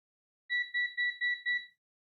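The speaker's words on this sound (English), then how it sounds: "That's my multimeter beeping." A multimeter beeping five times in quick succession, each beep short, shrill and electronic, clear and alone in an otherwise quiet room.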